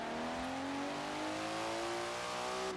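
A modified Datsun in the Forza Horizon 4 racing game, driven toward Edinburgh, revs hard with a loud continuous engine note that climbs steadily in pitch as it accelerates, with no other sound.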